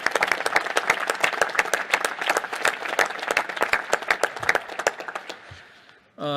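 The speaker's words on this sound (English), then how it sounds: "How about a round of applause for this whole panel?" Clapping breaks out for a panel at a National Space Council meeting, with a mid-sized audience applauding steadily and then thinning out before a voice resumes at the end.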